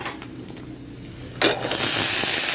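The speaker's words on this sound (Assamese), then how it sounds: "মই দালি বনাইছে আৰু কচু ভাজিছে।" Black taro frying in a pan over a firewood cooking fire, starting as a soft crackle and swelling into a loud, continuous sizzle midway, close up and with no talking.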